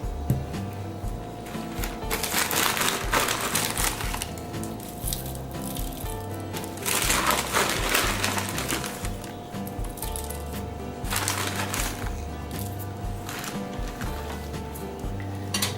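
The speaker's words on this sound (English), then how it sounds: "And I am adding the cereal, the pumpkin flax granola." Pumpkin flax granola cereal is poured and scattered into a bowl of overnight pumpkin pie oatmeal. Close crunchy rustling and light clinks come in several bursts between quieter pauses, with no one talking.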